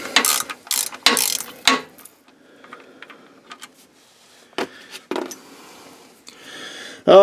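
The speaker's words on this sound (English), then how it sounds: "now we can get those bolts out" A ratchet wrench backs out bolts on the transfer case of a 4WD S10 Blazer, GMC 4x4, during encoder motor replacement: close, crisp bursts of rapid ratcheting clicks separated by short pauses, with no talking.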